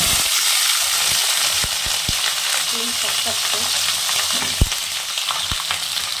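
Flat beans (sim) fry in a pan with a steady broadband sizzle and occasional stirring clicks and scrapes, close and fairly loud throughout, with no talking.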